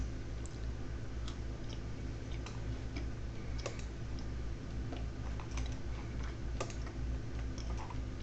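Fingers type rapidly on a computer keyboard nearby, producing a dense, continuous run of light clicking keystrokes with no talking.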